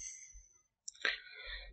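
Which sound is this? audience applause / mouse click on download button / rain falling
mouse click on download button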